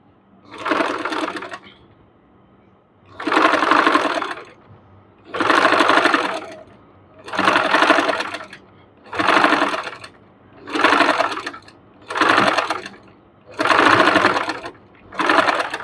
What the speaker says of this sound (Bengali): একদম কিনারা দিয়ে আমরা এই সেলাইটি দিয়ে নিচ্ছি।